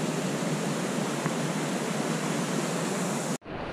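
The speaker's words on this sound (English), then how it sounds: "Cool, raging little waterfall." A small raging waterfall on a mountain creek along a Sierra trail near Bishop, California, roars as steady broadband rushing water, close and loud, before cutting off abruptly near the end.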